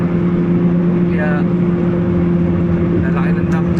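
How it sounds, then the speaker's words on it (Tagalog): A large dump truck's engine gives a loud, steady, close rumble with a constant low hum, while people talk over it. "lalaki ng dump truck oh."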